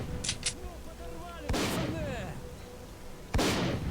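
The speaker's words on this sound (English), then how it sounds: "So these bandits are shooting at something." Scattered gunshots from a firefight in STALKER Call of Pripyat, a few sharp cracks at irregular intervals, some close and loud, over ambient game sounds and faint chatter.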